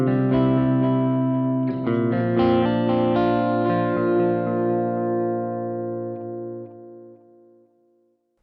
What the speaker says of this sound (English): this will apply tape modulation to your delay repeats